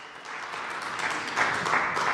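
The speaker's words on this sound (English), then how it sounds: "give another round of applause" Church congregation applauding during a worship service, a steady wash of many hands clapping that swells slightly toward the end, moderately distant and with no voices over it.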